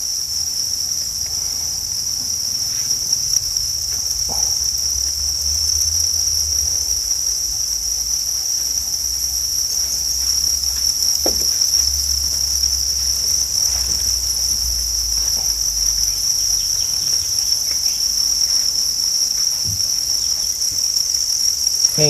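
Crickets chirp steadily around an egg-laying tray in a cricket-breeding setup, a dense, continuous high-pitched trill that holds throughout with no voices.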